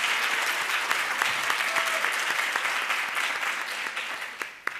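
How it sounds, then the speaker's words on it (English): Sustained applause from an audience at a county animal services community event fills the space, a dense steady clapping that stays loud before tapering slightly at the end. "we all owe her a tremendous thank you and applause"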